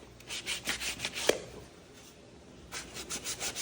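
Sandpaper rubbed back and forth over the rubber sole of a new Vans shoe, a steady run of close, rasping strokes that pause for about a second before the scraping resumes.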